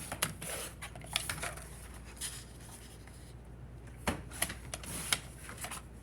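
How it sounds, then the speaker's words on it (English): A tabletop paper trimmer slices a 7-inch piece of cardstock for a scrapbook workshop, giving a few quick dry scraping cuts among light paper shuffling and handling rustle, close and fairly quiet. "you're turning your 7-inch piece short in the trimmer, and you're going to cut it at 5 twice"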